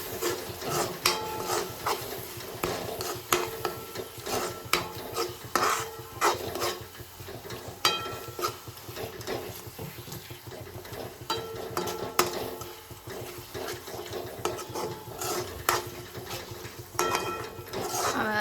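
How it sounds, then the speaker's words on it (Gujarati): A spoon stirs and scrapes spiced masala with garam masala in a pan for chole, giving soft repeated scraping strokes, occasional metal clinks and a faint sizzle throughout. "મસાલાને સારી રીતે હલાવી નાખશું."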